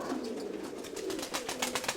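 Pigeons coo softly over a steady outdoor background, with faint rhythmic fluttering or pulsing sounds through the short stretch.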